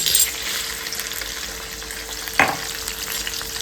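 Peanuts, green chilli and curry leaves sizzle steadily in hot oil, a close, continuous crackling hiss with one sharper burst partway through as more goes into the pan.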